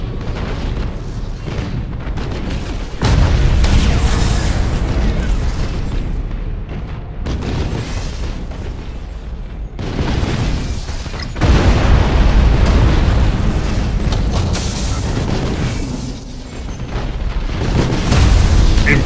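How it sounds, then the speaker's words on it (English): An Imperial starship explodes in the space strategy game Battlefleet Gothic: Armada, with loud, dense rumbling blasts that surge in waves over a constant roar of battle noise. "Imperial ship destroyed"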